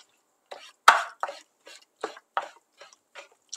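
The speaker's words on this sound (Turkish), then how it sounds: "patlıcanlarımızı minik minik doğruyoruz. Ufaltıyoruz." A knife chops still-warm cooked eggplant into small pieces on a board, a series of about nine crisp, close, evenly spaced cuts with short silences between, no talking.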